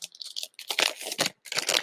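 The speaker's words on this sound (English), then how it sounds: "Y'all hear that? There's so much paper." Paper rustles and crinkles in bursts as a package is unwrapped, close and crisp, with short pauses between handfuls and no talking.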